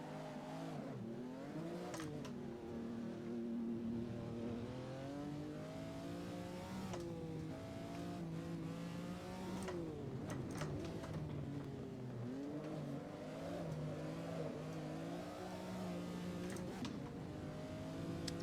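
A 1970s Trans Am Ford race car engine at Sonoma Raceway in a racing video game, revving and shifting continuously with rising and falling pitch through gear changes, loud and close throughout.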